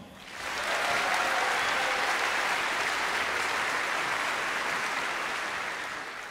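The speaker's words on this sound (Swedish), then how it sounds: "En stor applåd också för vår konsertmästare Ulrika Jansson." A concert hall audience applauds the concertmaster of the Swedish Radio Symphony Orchestra, the clapping rising quickly into a dense, sustained roar that holds steady and eases slightly at the end.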